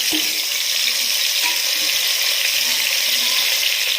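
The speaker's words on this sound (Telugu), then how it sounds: "ఇందులోకి మనం ఆల్రెడీ స్టఫ్ చేసి పెట్టుకున్న వంకాయల్ని యాడ్ చేసుకున్నాము" Stuffed brinjals sizzle in a pan of hot oil, a steady close frying hiss with a few faint clinks and small pops over a continuous bed of crackle, no one speaking.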